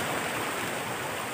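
Stream water at a rural river laundry spot in the Philippine countryside makes a soft, continuous babbling hiss, even and close with no other sounds over it.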